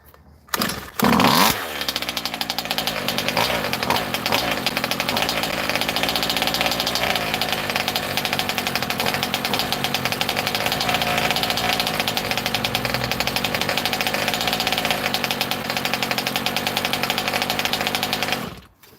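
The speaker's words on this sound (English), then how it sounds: "Still a little bit low on the idle there." Engine of a motorcycle being worked on in a garage idles slightly low: after a short revving start, a steady loud close chugging runs evenly for most of the stretch, then cuts off.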